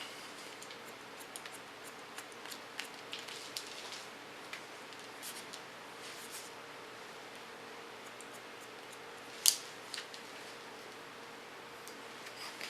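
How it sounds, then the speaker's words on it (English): Scissors point-cutting hair during a bob to pixie haircut, a series of faint crisp snips and ticks scattered over quiet room hiss, with one sharper snip late on. "with a point cut technique, I cut it off."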